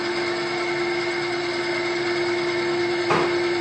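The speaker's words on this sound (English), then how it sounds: "So we'll fire up the saw." A SKIL 3386 9-inch band saw runs steadily as a loud, even motor whine with a constant tone, ready to rip 3/4-inch oak. A brief louder burst comes near the end.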